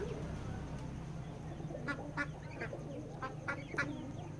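On a duck farm, several ducks quack in scattered bursts that grow busier toward the end, heard over a low background rumble with no talking.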